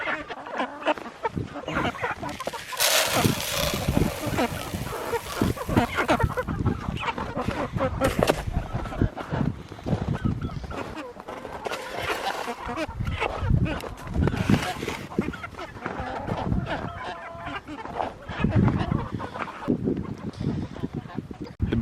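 Barred Rock chickens and young pullets cluster at feed bowls, giving loud honking clucks and squawks close by over scuffling, with a person talking intermittently throughout.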